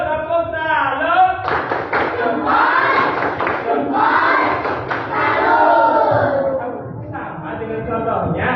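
A classroom of students performs a rhythmic clapping chant together, a crowd of voices shouting in unison over steady claps, loud and close, lasting several seconds with a brief dip near the end.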